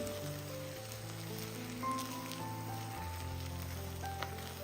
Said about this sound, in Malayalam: ഇനി ഇതുപോലെ മുട്ട ഒന്ന് മിക്സ് ചെയ്ത് ഒന്ന് ചിക്കി എടുക്കാം